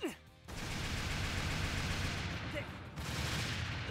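Dark Rose Valkyrie game gunfire crackles in a dense sustained burst of rapid shots, loud and continuous for most of the stretch, with a brief pause early on and voices calling out between volleys.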